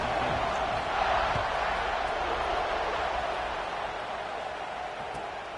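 A football stadium crowd at a Georgia Tech versus Georgia game makes a steady, distant roar before the kickoff, a broad even wash of cheering that holds without clear peaks.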